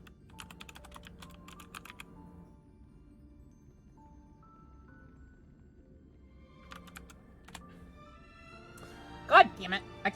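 Rapid keystrokes on a computer keyboard as a password is typed, soft clicking in short bursts near the start and again toward the end, with faint background noise and a brief louder sound at the close.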